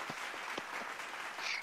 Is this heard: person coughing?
no